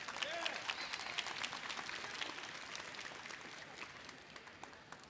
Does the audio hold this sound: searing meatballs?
no